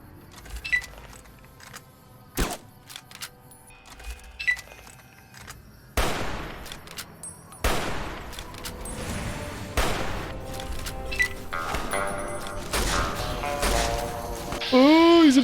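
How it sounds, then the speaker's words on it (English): Rifle fire with .308 ammunition in a video game, sharp shots scattered unevenly over the span, mixed with clattering game effects and a rising tone near the end, with a voice talking in between. "I am tearing through my 308 ammo"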